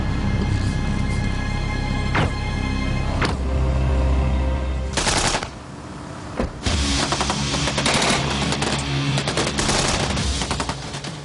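Gunfire in a reenacted military raid: loud, rapid bursts of automatic shots and scattered single cracks, close and sustained over a low droning background.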